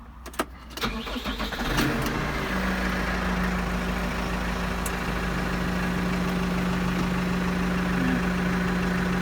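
A Case Farmall 55C tractor's diesel engine cranks a few times, catches, and settles into a loud, steady low idle that continues to the end.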